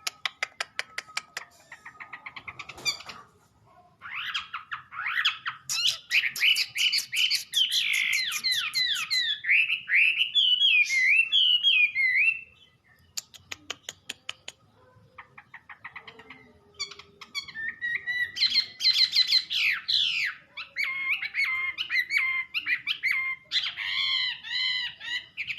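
A Wambi bird sings in long, bright runs of rapid whistles and chattering trills, close and clear against a quiet background, broken by short pauses and a few sharp calls.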